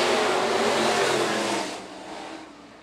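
IMCA Northern Sport Mod race cars roar past on the dirt oval at Phillips County Raceway, a loud sustained engine blare that fades away after a couple of seconds as the pack moves off.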